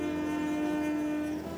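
Kalka-Shimla Railway narrow-gauge train in northern India, a steady rumbling run with a sustained horn tone held for over a second, loud and close.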